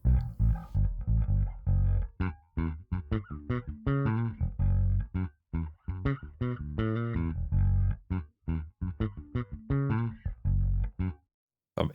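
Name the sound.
bass guitar line with reverb effect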